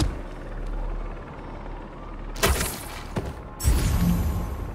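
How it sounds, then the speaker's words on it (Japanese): A helicopter rotor in the video game Marvel's Spider-Man 2 thrums with a low, pulsing beat, then loud crashes and shattering impacts burst over it. "ヘリの羽とか。"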